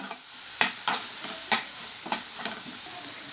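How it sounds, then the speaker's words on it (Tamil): Tomatoes and bitter gourd sautéing in a hot pan, a steady close sizzle punctuated by several sharp scrapes and clinks of a spoon stirring at irregular intervals, with no talk. "தக்காளி நல்லா வதக்க விட்டுக்கலாம்"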